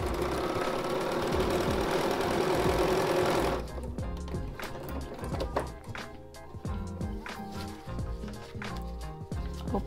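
Pink and yellow floral fabric runs through a sewing machine in foundation paper piecing for a granny square block, a dense steady mechanical whir that drops in level partway and continues with rhythmic stitching ticks.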